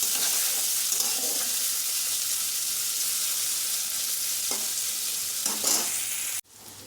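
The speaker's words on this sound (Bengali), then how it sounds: "পনির ভাজা হয়ে গেছে, আর বেশি ভাজবো না, হালকা হালকা করে ভেজে নেব।" Paneer frying lightly in a pan gives a close, steady hissing sizzle throughout, with a few scraping stirs, before it cuts off abruptly near the end.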